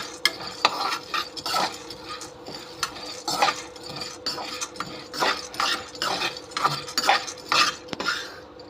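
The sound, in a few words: dry roasting roasted gram, pepper, cumin and red chillies in pan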